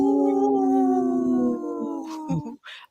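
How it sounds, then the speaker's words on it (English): A long, sustained wolf howl with a steady, slightly wavering pitch, fairly close, fading out after a couple of seconds and followed by brief rustling. "can hear Ogama howl, but I can't see her"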